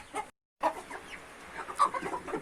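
Nervous hens clucking in a farm shed, a string of short, close, irregular clucks and squawks with a brief dropout near the start and no talk.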